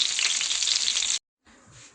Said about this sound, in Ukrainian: Фарш всередині просмажується під кришечкою